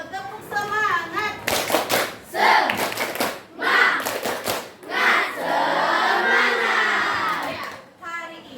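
A classroom of schoolchildren performing a rhythmic clap cheer, with bursts of patterned clapping alternating with loud group chanting and shouting, close and lively, with a teacher's voice leading at the start.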